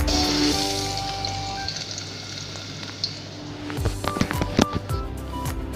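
Garlic sizzling in about three tablespoons of hot oil in a pan, with a steady loud frying hiss that is later broken by stirring clatter and scraping near the end.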